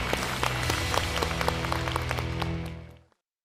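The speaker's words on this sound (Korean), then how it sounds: "박수를 부탁드립니다." Warm audience applause greets a lecturer taking the stage on a Korean television talk show. The clapping is steady and bright over a bed of music, then cuts away to silence after about three seconds.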